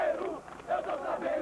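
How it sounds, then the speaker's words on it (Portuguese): Crowd of football fans shouting in protest outside Morumbi stadium after a Palmeiras versus Corinthians match, a loud chanting roar rising and falling in waves. "Na saída do estádio, os protestos continuaram"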